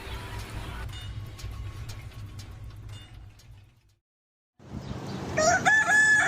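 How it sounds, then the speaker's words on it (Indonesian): A rooster crows loudly near the end, following a stretch of low background rumble and a brief silence. "Ayam selalu berkokok di awal pagi."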